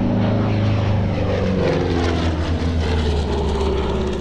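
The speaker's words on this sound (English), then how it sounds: "The P-47 Thunderbolt, husband and wife are here to see, is an exact replica of the one Ralph flew during World War II." A P-47 Thunderbolt replica propeller fighter flies past, its radial engine giving a loud, sustained droning roar throughout, with no voices.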